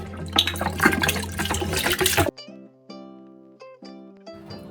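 Vinegar is poured into a pot for Şanlıurfa-style sour pickles, a close, rushing stream of liquid lasting about two seconds before stopping abruptly, with music playing afterward.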